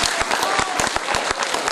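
Theatre audience applauding at a premiere performance at a cultural centre in Slatina, a dense, steady clapping with sharp individual claps standing out near the front, sustained loudly throughout with no speech over it.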